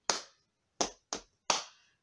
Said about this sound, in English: time to tap our knees and clap our hands